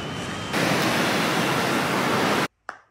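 Sea waves wash onto a beach in Crete as a broad, steady rush of surf that swells louder after a moment, then cuts off abruptly, followed by a brief faint noise.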